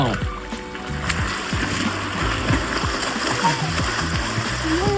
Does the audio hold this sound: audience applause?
no